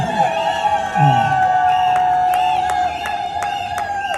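Wedding guests at a civil marriage ceremony cheer and applaud in a steady crowd roar, with shouts and whoops rising over ongoing music and voices for the whole stretch.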